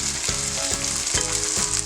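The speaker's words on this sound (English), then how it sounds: "We're just gonna stir it around until like the tomatoes are like, you know, kind of like mushy." Tomatoes frying in a pan for toor dal, a steady loud sizzle with a spoon scraping and stirring at regular intervals of about half a second, with no one talking.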